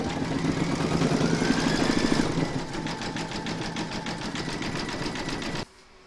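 Embroidery-style sewing machine stitching round a llama appliqué in a hoop, a steady fast mechanical whirr with rapid needle ticking, close and continuous, shifting pace midway before stopping abruptly near the end.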